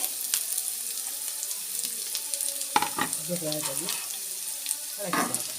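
Chinese potatoes fry in a pan with freshly added sliced onion for a stir-fried mezhukkupuratti, making a continuous close sizzle with scraping stirs. A brief voice cuts in midway and again near the end.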